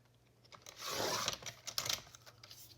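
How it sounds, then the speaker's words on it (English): Paper strip being cut from a 12x12 mini album base, with a soft swelling slice and rustle followed by a few short crisp snips and crinkles, close up with no talking. "in order to use the base, I need to cut this little strip off"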